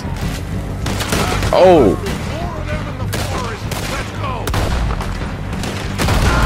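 Sharp gunshots from Red Dead Redemption 2 gameplay pop at irregular intervals, a few close and booming, mixed with game ambience and a man's brief exclamation.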